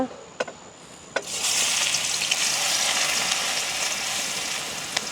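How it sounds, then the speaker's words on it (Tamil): Crushed garlic hits hot coconut oil with a sudden loud sizzle after a couple of faint clicks, then a steady close frying hiss that keeps going without talk. "நாங்கள் வந்து இடித்து வச்சிருக்கிற உள்ளியே சேர்ப்போம்"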